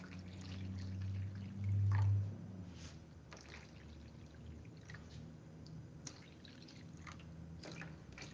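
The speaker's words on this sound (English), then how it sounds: "Okay, add a little more water." Water is poured into dye for hand-dyeing, a soft trickle with scattered drips over a low background hum, faint and close.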